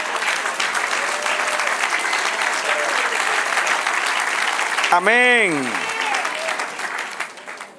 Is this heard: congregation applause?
yes